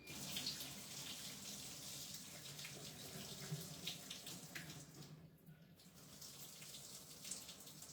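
Pasta water pours from its cooking pot into a kitchen sink in a steady, rushing stream that runs unbroken, apart from a brief dip midway, quiet and slightly distant.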